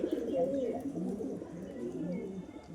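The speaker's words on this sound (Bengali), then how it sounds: "আমার বাড়ির কিছু পায়রাকে আর কি গোসল করতে দেওয়া হয়েছে" Soft, low cooing of pigeons being given a bath, several overlapping coos close by, continuous and gentle.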